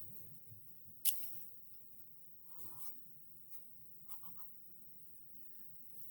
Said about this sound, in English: I'm going to try to draw Bob's arms, his hands on his hips.